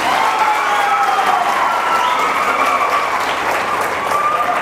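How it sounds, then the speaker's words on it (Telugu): Sustained applause from an audience at a public speech event in Yerragondapalem, a dense, even wash of clapping that stays loud and steady throughout with a faint murmur of crowd voices. "అందరూ గట్టిగా చప్పట్లు కొట్టండి."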